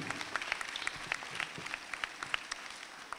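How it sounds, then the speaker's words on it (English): Applause from a crowd of animal advocates for two New York State assemblypersons, a dense steady clapping of moderate loudness with no talk. "Give them a round of applause."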